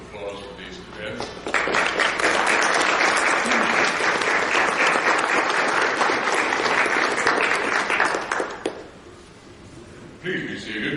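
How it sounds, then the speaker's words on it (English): A large audience applauds cadets at a ceremony, a dense, loud burst of clapping that rises quickly, holds steady for several seconds, then fades, with a brief return of clapping at the end. "Let's have a nice round of applause for these cadets."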